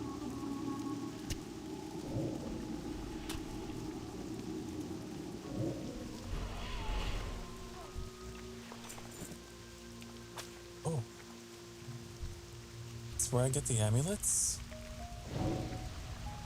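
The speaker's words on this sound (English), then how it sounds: "Also, it's raining." Steady rain falls in World of Warcraft: Wrath of the Lich King Classic, with thunder in the mix, a continuous wash running under a person talking and game music.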